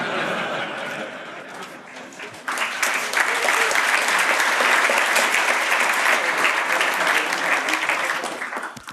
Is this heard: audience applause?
yes